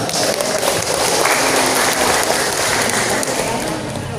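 An audience at an annual cooperative members' meeting in Sumedang applauds steadily, a dense patter of many hands that stays loud throughout and eases slightly near the end.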